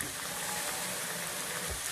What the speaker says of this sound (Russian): налью один бокал воды.